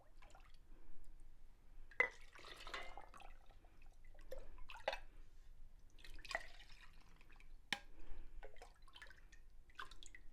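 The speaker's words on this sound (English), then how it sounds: "I'm going to put water in here to give it all the way to the 1-inch head space." Water trickles and drips into a pot being filled for pressure canning quail, uneven splashes and drops with brief pauses, close and fairly quiet.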